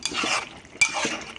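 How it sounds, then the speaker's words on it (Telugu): Ginger, garlic and cumin tossed into a hot pan, with two quick scraping stirs of a spoon against the metal and a soft sizzle, close and alone. "అల్లం, వెల్లుల్లిపాయ, జీలకర్ర వేసేసుకుంటున్నాను."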